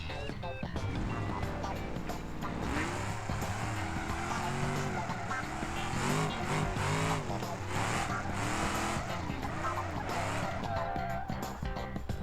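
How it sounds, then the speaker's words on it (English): A car drifting in the BeamNG driving game, with a continuous engine drone rising and falling as the revs change and tires squealing through the slides, all under a speaking voice. "This one actually drifts quite nicely as well."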